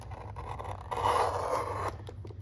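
A blade slices through leather for a holster, one steady scraping, rasping cut of about a second, close and fairly quiet, with low room hum behind it and no talking.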